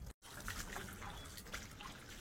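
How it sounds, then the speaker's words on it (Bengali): Bare feet wade and splash through shallow floodwater covering a road, a steady close sloshing and trickling that runs on without a break, apart from a brief dropout near the start. "বাবা দেখেছো পুরো রাস্তা জল"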